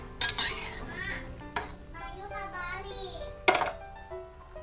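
Vegetables and fish cook in a wok, with utensils scraping and clanking against the pan over a light sizzle, and a voice in the background.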